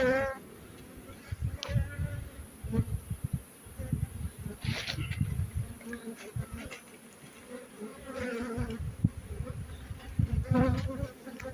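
Honey bees buzz steadily nearby, a dense droning hum with individual bees flaring louder as they pass close, and faint murmurs in the background.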